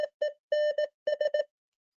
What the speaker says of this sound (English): And basically it sounds like this.